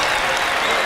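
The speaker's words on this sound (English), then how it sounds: "He deserves a standing ovation." Loud crowd applause at a Buffalo versus Cornell men's college basketball game, a thick, close roar of clapping with no break.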